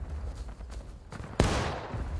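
A single sharp musket shot cracks out partway through and rings off into a fading tail, over a low rumbling battlefield ambience, in the Civil War game War of Rights during a skirmish at Otto & Sherrick Farm.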